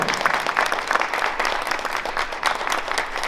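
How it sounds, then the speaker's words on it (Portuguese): An audience claps for astronauts at a book event, a brief burst of fairly close, dense applause with no speech over it. "Uma salva de palmas aí para os astronautas, por favor."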